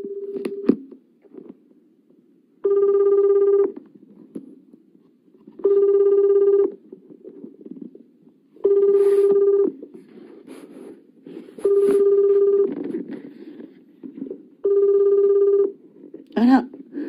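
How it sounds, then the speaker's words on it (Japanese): During an outgoing phone call, the ringback tone purrs five times in steady, evenly spaced bursts, loud and close. Faint background noise fills the gaps between rings. "永瀬先生にお電話おかけしたいと思います"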